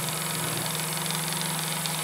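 A small electric motor spins a rotating NeoPixel LED display, giving a steady, loud whirring drone with a constant buzzing pitch and no pauses, heard close up.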